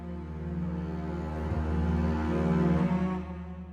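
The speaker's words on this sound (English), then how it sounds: "So I have the bass going with a cello and a synthesizer as well." Bass swell layered with cello and synthesizer for an epic Bedwars track, a low sustained tone that slowly builds in loudness and then eases off, with no voices.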